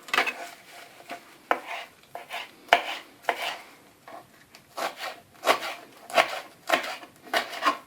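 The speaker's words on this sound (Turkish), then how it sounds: "İndi isə kəvərimizi doğrayaq." A knife chops fresh herbs repeatedly on a cutting board for kuku, crisp uneven strokes in quick bursts, close up with no voices.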